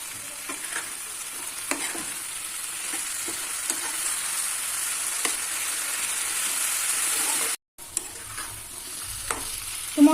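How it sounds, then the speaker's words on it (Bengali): Potatoes with spices stir-fried in a pan for a Bengali dhokar dalna: a steady sizzle with intermittent scraping stirs, close and moderately loud, briefly cutting out once near the end. "তো মশলা দিয়ে আলুটাকে ভালো করে কষিয়ে নিলাম।"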